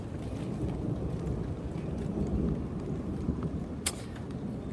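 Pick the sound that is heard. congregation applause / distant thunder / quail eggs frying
distant thunder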